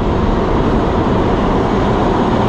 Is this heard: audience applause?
no